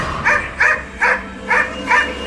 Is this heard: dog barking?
yes